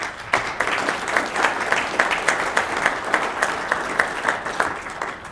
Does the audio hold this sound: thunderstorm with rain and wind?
no